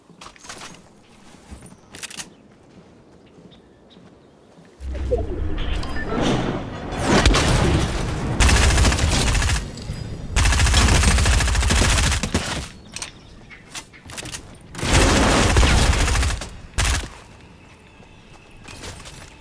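Gunfire in the video game Fortnite, with long loud bursts of automatic shots and booms separated by quieter pauses and a few footsteps, while players talk softly in between.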